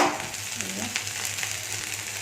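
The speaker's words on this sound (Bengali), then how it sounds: "অল্প করে আলুটা ভাজছি" Potatoes frying in oil in a pan in a home kitchen, a steady close sizzle running throughout with no talk.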